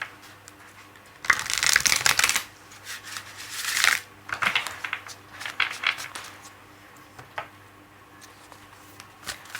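Oracle cards are shuffled in several soft, close riffling bursts with brief pauses between them over a faint steady hum, and no voice is heard.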